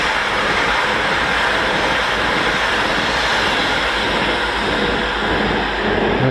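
Avanti Pendolino train passing at Stafford on the West Coast Main Line, a loud, close, sustained rushing roar with rumbling low end, steady throughout.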